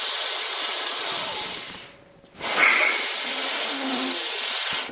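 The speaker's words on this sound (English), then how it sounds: "start breathing long, deep, and the hissing, both from the belly and the chest through the left nostril" Long, deep hissing breaths drawn through the left nostril, filling belly and chest, sound as a close, steady airy hiss that breaks for a brief pause before the next breath.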